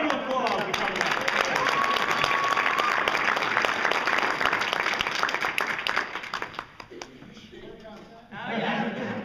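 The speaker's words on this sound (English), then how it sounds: "Give a round of applause for coming out." Audience applause for a couple called up at a game show, dense sustained clapping with cheering and voices mixed in, fading toward the end before rising again briefly.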